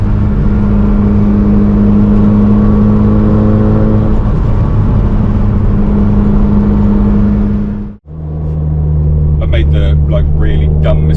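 A JDM Legend car engine hums steadily while driving through countryside, its pitch rising and falling with revs, loud and close in the cabin, briefly dipping quiet before resuming under talking voices.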